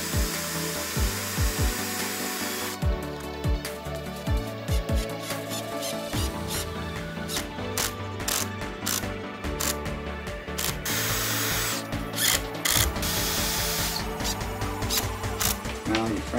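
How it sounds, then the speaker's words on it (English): A power drill drives screws into wooden boards to build a frame, giving repeated bursts of whirring and ratcheting clicks, close and loud, continuing steadily with brief pauses between screws. "I'm gonna screw these in so that it makes one frame"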